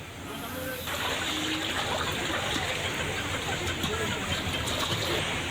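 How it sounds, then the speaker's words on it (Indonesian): A swift, flood-swollen river rushes after a flash flood and landslide in Sumatra, a dense continuous roar of water that swells after a moment and stays loud and steady, with faint voices underneath. "Warga terpaksa mengevakuasi jenazah dengan melewati sungai berarus deras akibat banjir."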